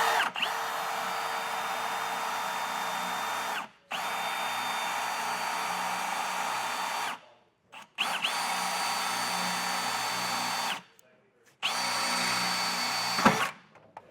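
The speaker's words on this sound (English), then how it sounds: "first I'm going to get a pilot hole drilled," A power drill bores a pilot hole with a small bit into the frame of a 2025 Toyota Corolla during a trailer hitch install, whining loudly in four long bursts with brief pauses between them.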